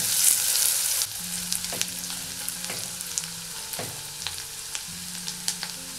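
Chopped onion sautéing in olive oil in a pan, a close steady sizzle with an initial loud burst, then a softer crackling interspersed with utensil scrapes and taps as it is stirred.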